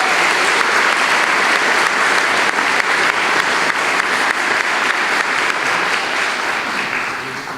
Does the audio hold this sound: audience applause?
yes